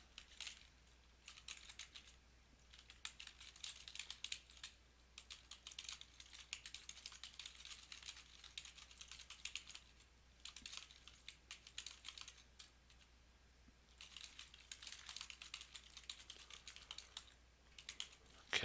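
A computer keyboard being typed on, with long runs of soft, quiet keystrokes broken by brief pauses over a faint steady background hiss.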